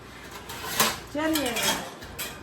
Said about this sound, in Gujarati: મમ્મી વાસણ ગોઠવે છે